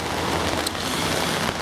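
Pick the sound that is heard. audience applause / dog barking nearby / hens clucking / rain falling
rain falling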